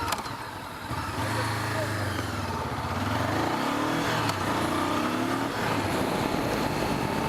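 Motorcycle engine during a French A2 licence riding test, a steady close drone with pitch rising and falling as the bike works through a few gears, continuous from about one second onward.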